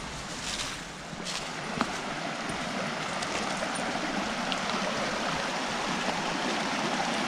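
A creek running high and strong after spring flow, a steady, close, broad rush of water with no talking.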